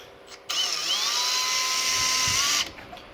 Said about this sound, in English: now I've decided to put it in the vise and probably just use the drill